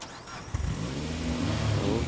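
A car engine in State of Decay 2 turns over and settles into a steady mid-pitched hum that builds slightly in level, heard alone with no talk.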